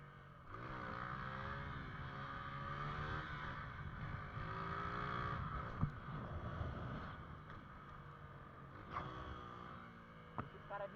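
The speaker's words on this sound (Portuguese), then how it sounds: "Deixa os caras de carro passar," Cars passing on a road beside a motorcycle rider on a cold day, a continuous engine drone with rising and falling tones and wind buffeting the microphone, a couple of sharp knocks near the end.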